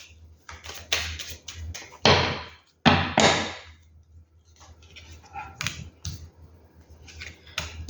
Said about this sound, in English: I will just shuffle and choose the cards from the top.